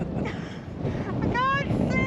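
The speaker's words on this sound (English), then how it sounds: "It's a bit windy." Wind gusting at Manstone Rock in Shropshire, a heavy low rumble buffeting the microphone, continuous and close, with a voice briefly heard over it.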